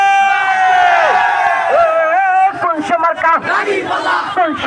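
A large crowd roars a sustained, unified chant in answer to a takbir call, then breaks into ragged shouted replies and cheering, loud and close.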